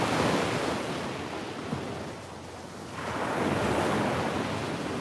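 Ocean surf breaks on a beach in Naples, Florida, a broad, steady roar that swells, eases in the middle, then builds again, with wind buffeting the microphone and no voices.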